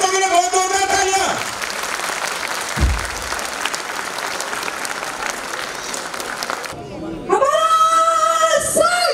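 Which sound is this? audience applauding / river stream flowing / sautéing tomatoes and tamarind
audience applauding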